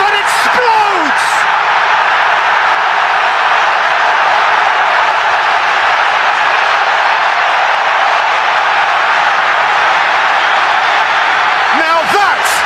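A huge football stadium crowd at Old Trafford roars nonstop after a Manchester United goal, with dense sustained cheering and whistles and a few sharp whoops near the start and end.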